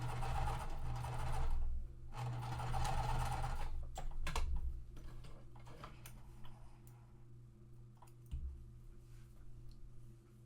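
A sewing machine stitches quilt block seams in rapid bursts of mechanical whirring and ticking, loud at first, then quieter clicks and taps as the fabric is guided.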